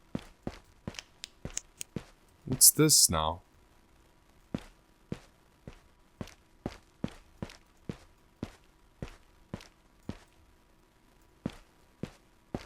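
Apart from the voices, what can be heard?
footsteps in a Backrooms video game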